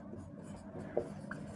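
Pen or marker scratching across paper while a handwritten math solution for a differential equations exercise is written out, a steady close soft scraping with one brief sharper tap, no talking.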